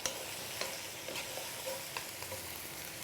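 Chili peppers sizzling in a frying pan, a steady soft hiss with faint scattered ticks and crackles throughout, no talking.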